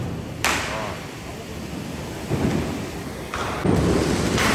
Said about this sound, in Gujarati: બધા ફટાકડા ફોડે છે જોરદાર